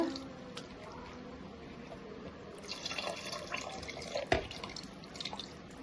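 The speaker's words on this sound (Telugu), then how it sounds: "చింతపండు పులుసు పోసేస్తున్నానండి" Tamarind water being poured into a pot of Nellore-style restaurant sambar, a soft continuous trickle and splash under faint room noise, fairly quiet throughout with a slightly louder spill near the end.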